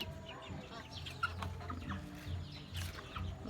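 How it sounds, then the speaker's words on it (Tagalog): Backyard chickens cluck and murmur in soft, irregular bursts near the listener as the flock follows someone around, with faint rustling in the background. "Mga chicken natin."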